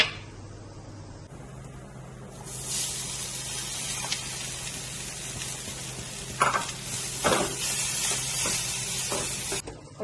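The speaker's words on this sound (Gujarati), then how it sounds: "તેલ ગરમ થઈ ગયું છે, એમાં આપણે જીરું નાખીશું," Cumin and sesame seeds hitting hot oil for tempering, a sharp sizzle that jumps up after a quiet start and keeps crackling loudly up close, with a few louder spits toward the end.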